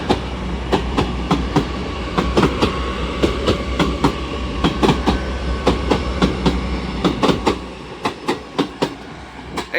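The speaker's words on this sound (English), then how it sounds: "Now also departing will be your 1105 Transpennine Express service bound for Liverpool Lime Street" Class 802 TransPennine Express unit 802-208 pulling away from York station, with a steady rail rumble and regular clickety-clack wheel beats over the joints, fairly close and heard alone.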